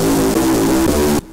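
A distorted synthesizer tone plays with no envelope shaping, a loud, buzzing sustained note that holds at full level with a slight wobble before cutting off abruptly.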